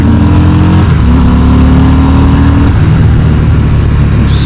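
A 2019 Harley-Davidson FXDR with a wide 240 rear tire accelerating hard, loud engine rising in pitch through two gear changes, heard up close with heavy wind rush.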